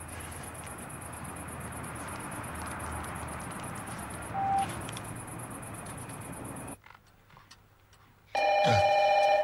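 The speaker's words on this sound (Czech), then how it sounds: "to jenom zvoní telefon" Telephone ringing: a bright electronic ring that comes in near the end, loud and close, after a stretch of steady background noise.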